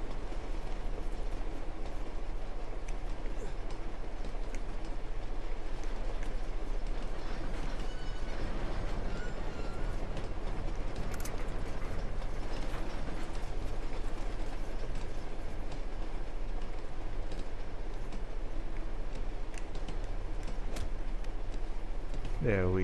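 Moving train in Uncharted 2, a constant loud rumble and clatter of rolling wagons with metallic rattling and creaking throughout, close and unbroken.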